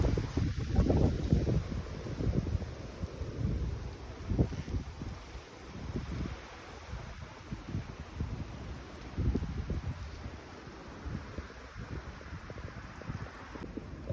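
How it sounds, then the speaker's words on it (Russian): Strong wind from a cyclone by the sea at Yalta, with snow falling, buffets the microphone in rough, gusty rumbles that swell and ease, loudest at the start and settling into a steadier roar. "Друзья, смотрите, какой ветер начинает дуть."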